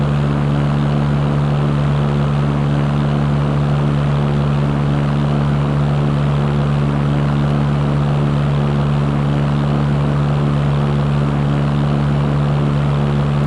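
A propeller airplane engine in the flight simulator game Fly! II drones steadily and loudly with a constant low hum and whirring propeller tone, unchanging throughout with no talk.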